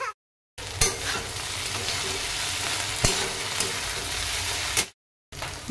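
Okra cooks in a pan over a medium flame with a continuous close sizzle and a few sharp clicks, broken by short silent gaps near the start and end.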